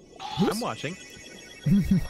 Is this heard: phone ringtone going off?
yes